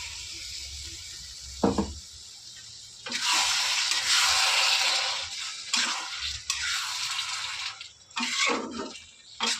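Water splashed into a hot pan of spiced soybean-chunk masala, giving a bursty hiss and sizzle that rises and fades in several waves, close and fairly loud, with light clatter between.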